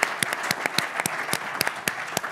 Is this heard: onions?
no